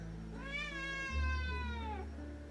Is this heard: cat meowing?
yes